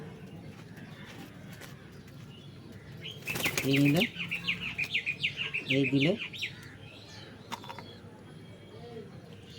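Pigeon chicks peep in quick, shrill bursts while being fed with a rubber syringe, accompanied by fluttering wings, with someone speaking softly nearby.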